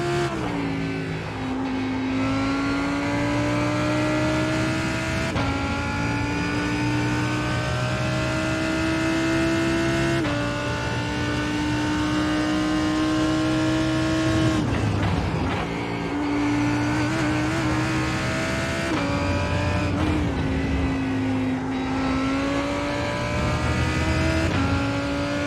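An LMP prototype race car engine at the Red Bull Ring in an IMSA sim race drones loudly and continuously, its pitch climbing through repeated gear changes with brief drops between them and no voices.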